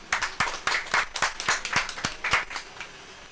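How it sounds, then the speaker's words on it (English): A small group at a medical endoscopy training course claps in sparse, uneven bursts, individual claps clearly separated and fairly close. "I think they do deserve at least a round of applause, please"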